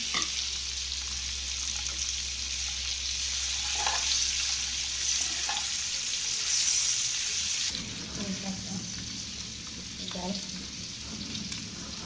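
An egg frying in a pan gives a steady, hissing sizzle throughout, with a slight drop in intensity partway through and a few faint clicks.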